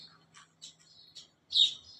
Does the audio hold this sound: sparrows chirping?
yes